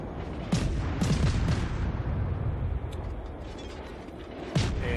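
Naval guns of the destroyer USS Mahan fire in a World of Warships battle, heavy booms repeating at irregular intervals over a constant low rumble of sea and engine noise.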